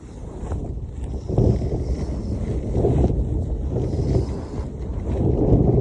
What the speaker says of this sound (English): That's how windy it is